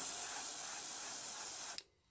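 Steady close hiss of spray paint being applied to a shallow-water baby bass crankbait lure, a continuous airy spray that cuts off abruptly near the end.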